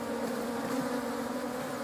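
Bees buzz at a farm beehive in a steady, continuous drone, close and fairly loud, with no pauses or other sounds breaking through.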